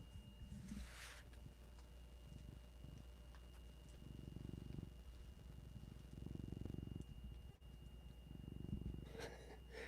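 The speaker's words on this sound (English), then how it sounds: "I'll give you a mic full of that purr." A cat's low, steady purr rumbles in rhythmic pulses close to the microphone, with faint background hum and a couple of brief rustles.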